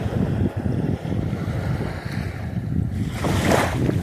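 Sea waves wash onto a shore in a steady, close roar of surf, with wind noise on the microphone and a louder surge of water near the end.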